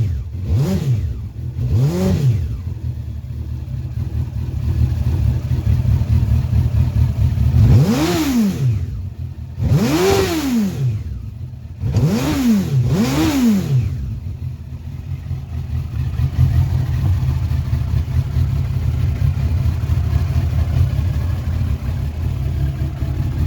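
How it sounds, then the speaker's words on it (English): A Bond Bug three-wheeled car engine cranks, catches and settles into a steady running note, with several rising revs marked by sweeping pitch climbs before returning to a continuous idle, loud and close throughout. "engine runs lovely. Japanese reliability."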